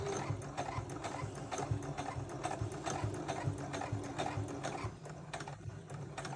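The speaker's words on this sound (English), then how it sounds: "Sew all the way around and your project will be done." A sewing machine stitches steadily around the edge of a fabric bowl cozy, a continuous rapid mechanical chatter at moderate volume with no voices.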